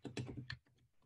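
Typing on a computer keyboard while coding, a quick burst of several close, clacking keystrokes in the first half second, followed by quieter scattered taps fading out.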